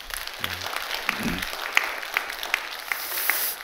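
A church congregation claps together after a sermon, a modest spread of applause with a few sharper individual claps standing out near the end and a brief low voice early on.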